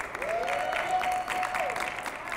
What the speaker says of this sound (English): Give him a round of applause, too.